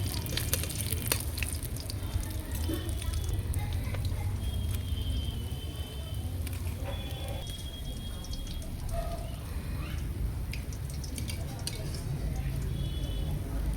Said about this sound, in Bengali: তাই আমি খয়রা মাছটা লাল করে ভেজে নেব